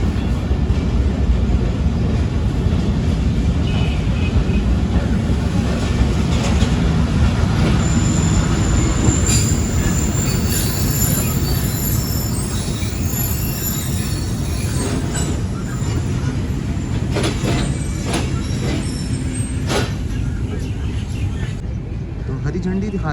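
The Hazara Express passenger train rolls through a station in Pakistan with a steady, loud rumble of wheels on track and intermittent high squeals and clanks, while people talk nearby.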